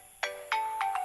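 A mobile phone ringtone plays a few bright, electronic chime notes in quick succession, clear and close in a quiet room.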